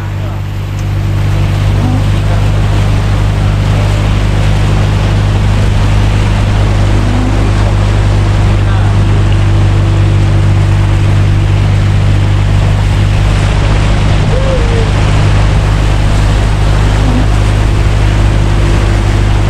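Steady, loud roar of rough ocean water with waves about 10 feet high and wind that fills the whole stretch without pause, with a low engine-like drone underneath.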